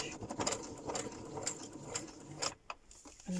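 A new sewing machine back stitches through a paper bag journal in short, near, rapid mechanical bursts of rattling needle clatter that start and stop. The stitching breaks off briefly near the end.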